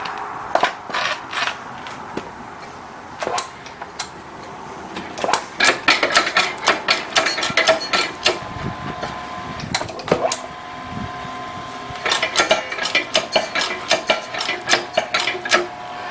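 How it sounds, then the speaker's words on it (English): A ring roller roll bender motor works a piece of metal, giving bursts of sharp clicking, clattering and knocking over a faint steady hum, loud and close, coming and going in irregular clusters with no voices. "Now you can see once that motor kind of starts to bog a little bit, that's where we stop."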